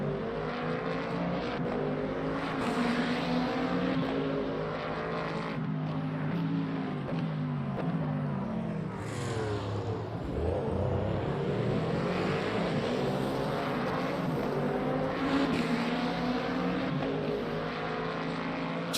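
Three hypercars running close together in a Le Mans Ultimate race at Bahrain, a steady, loud layered engine roar with pitch swells as the cars pass and shift.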